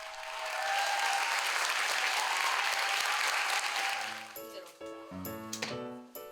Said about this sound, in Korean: 멋진 공연에 박수가 쏟아집니다